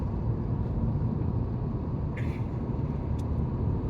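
A Volkswagen Taigun with the 1.0L TSI engine pulls gradually in fifth gear from around 50, a steady close engine and road drone heard from inside the cabin with no talk.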